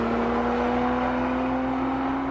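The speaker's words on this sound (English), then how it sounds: "all the sounds behind you, the buzzing, the vibrations, the supercharger whine" A Lotus Emira's engine gives a steady, droning buzz from inside the cabin, with a constant high supercharger whine running through it, heard alone without voices.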